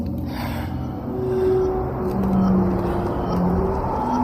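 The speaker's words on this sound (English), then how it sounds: "You can hear him breathing, and a metallic or magical noise forms" Heavy, rushing breaths blend with a low, droning metallic hum on a Minecraft music disc, a loud continuous texture that swells in waves with faint tonal whines riding over it.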